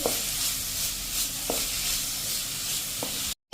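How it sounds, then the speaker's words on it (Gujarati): Thepla ingredients roasting in oil in a pan over a medium gas flame, a steady close sizzle with a few soft stirring scrapes. "જો આપણે 1 મિનિટ આ રીતે રોસ્ટ કરી લીધી છે તેલમાં"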